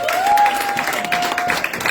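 Church congregation at a Sunday service applauding, a brief, dense burst of clapping from many hands, loud and continuous, with a faint sustained tone beneath.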